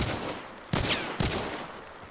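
Rapid gunshots ring out in Hunt: Showdown, a close burst of loud cracks with two sharp reports standing out over a dense, roaring wash of fire.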